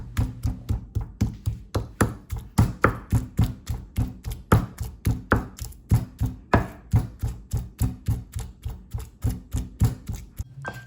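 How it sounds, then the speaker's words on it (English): A knife chops shrimp meat on a cutting board with sharp, close thuds in a fast, steady rhythm, about four per second, that keeps going throughout with no talking. "Then use a knife to separate the shrimp meat like this. Coarsely chop it up."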